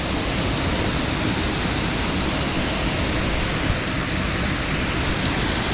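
A waterfall beside a woodland trail gives a steady, dense rushing roar that stays loud and even throughout, with no voices over it.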